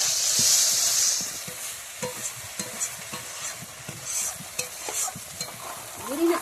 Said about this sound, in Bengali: সবজিগুলো সবগুলোই দিয়ে দিলাম, দিয়ে নাড়াচাড়া করবো ভালোভাবে